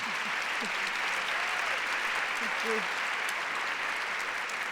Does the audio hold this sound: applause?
yes